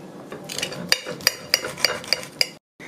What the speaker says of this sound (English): So let's cut into our steak